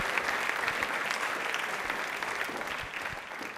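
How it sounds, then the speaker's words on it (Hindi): Audience applauds the singer Kajal in a television studio, a steady, moderately quiet wash of many hands clapping throughout. "काजल के एक बार तालियां हो जाए"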